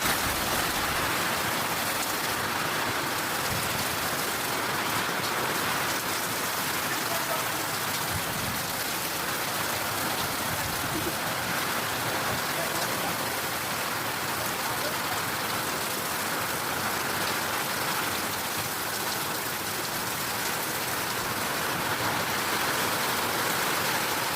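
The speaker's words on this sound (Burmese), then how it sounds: "မိုးသီးတွေပါဒီမှာပါမိုးသီးတွေပါကြတာပါ" Heavy rain mixed with falling hailstones pours down steadily during a wind-driven storm in Mandalay, making a dense, loud, unbroken hiss that carries on throughout, with no voices heard.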